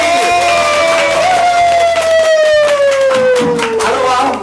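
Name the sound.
audience applause welcoming the guest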